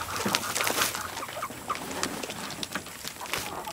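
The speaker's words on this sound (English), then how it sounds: "Here, chicken. Here, birds. Here, have these things, birds." Several chickens cluck close by in short, irregular bursts, with scratchy rustling between the calls as they are fed weeds.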